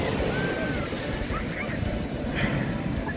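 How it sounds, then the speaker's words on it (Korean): Waves crash and wash on the East Sea shore at Sokcho, a loud continuous surf roar with gusty wind noise on the microphone. "이렇게 파도가 시원하게 쳐야 와 이게 바다다 싶지."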